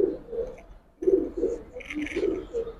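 A Giribaz pigeon coos close by in deep, rolling throaty phrases, one burst fading into a short pause before a longer series of repeated coos, with faint higher chirps near the end.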